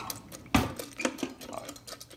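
A metal spoon clinks and scrapes against the inner pot of an Instant Pot while pasta shells with seasoning are stirred, giving a few sharp taps among softer scraping.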